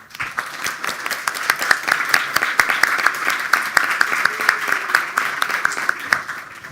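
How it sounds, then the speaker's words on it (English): An audience claps for winners at a bioinnovation awards ceremony, steady applause with sharp individual claps standing out, moderately loud and sustained, with a faint voice briefly underneath. "they really deserve a big applause from us"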